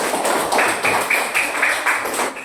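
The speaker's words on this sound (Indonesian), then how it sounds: "Kita kasih tepuk tangan dulu untuk kelompok visual 1." A classroom claps for a student group after its presentation, a brief burst of loud, close applause lasting a couple of seconds.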